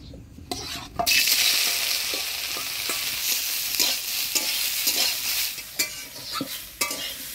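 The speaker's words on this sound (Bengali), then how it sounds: "সয়াবিনটা একটু লাল লাল করে ভেজে নিলাম" Soybean chunks frying in hot oil in a kadai, with a loud steady sizzle and repeated stirring scrapes and clinks of a spatula against the pan.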